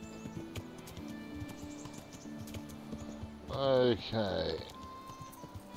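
Horse hooves clip-clop in a steady, quick rhythm in the video game Kingdom Come: Deliverance, fairly soft under ambient birdsong, before a short spoken word cuts in near the end.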